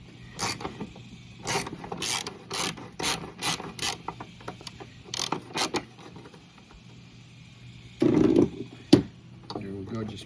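Ratchet with a 13 mm socket loosening a bolt on a Husqvarna HU700H mower, giving repeated short clicking bursts in quick runs, with a louder scraping stretch near the end and faint talk in the background.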